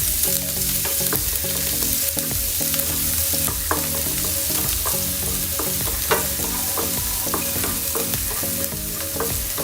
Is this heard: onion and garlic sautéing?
yes